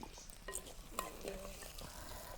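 Onions and garlic with rock salt sautéing in a pan in an outdoor kitchen, a faint steady sizzle with light stirring scrapes and a few small clinks, close but quiet.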